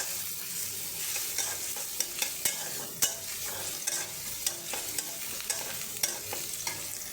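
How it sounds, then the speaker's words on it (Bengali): Chilli and onion frying in hot oil for a tempering (bagar) for dal, a steady close hiss with repeated sharp clicks of a spoon stirring against the pan. "বাগারের জন্য মরিচ আর পেঁয়াজ আমার ভাজা হয়ে গেছে"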